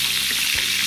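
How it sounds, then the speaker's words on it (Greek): Shrimp sizzle in a frying pan while they are stirred, giving a brief, close, steady crackle with a faint scrape from the stirring. "Το ανακατεύω."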